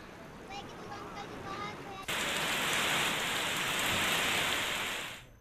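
Heavy continuous rain falls in a steady, dense hiss that starts abruptly after a brief stretch of quieter background, loud and unbroken before fading at the end.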